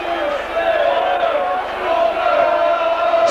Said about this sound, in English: Bishop there, replying his critics in the St Helens crowd with a fantastic kick.